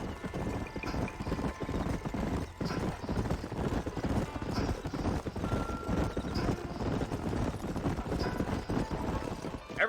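Horses trot in the Red Dead Redemption video game, with dense, continuous hoof clatter, some creaking and snorting mixed in, and voices speaking over them.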